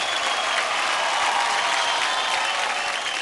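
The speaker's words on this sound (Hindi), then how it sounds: "जोरदार तालियां हो जाए सिद्धांत के लिए।" A studio audience at a televised kids' dance competition claps steadily for a young performer, an even, sustained wash of applause with no voices over it.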